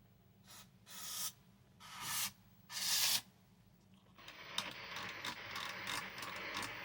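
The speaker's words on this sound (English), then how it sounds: "I might spray the tuner here real quick just to see if we can clear up a lot of the noise" Cleaner is sprayed into the tuner of a 1974 RCA solid-state black-and-white television in three short hissing bursts. Clicking and scraping as the tuner is worked follows under a steady low hum.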